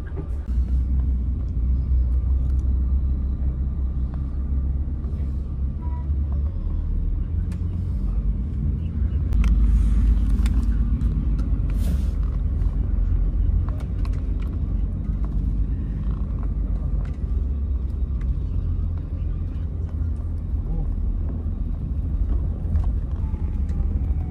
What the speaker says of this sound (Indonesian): Sekarang bus lagi OTW menuju ke terminal Mengui